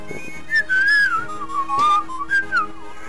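A person whistles a wavering, melodic tune in several short phrases over Fire Emblem: Blazing Sword gameplay, close and clear, with brief pauses between them.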